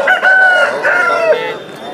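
An Aseel rooster at a market in Jharkhand, India, crows close by, one loud drawn-out call with a rising and falling cry.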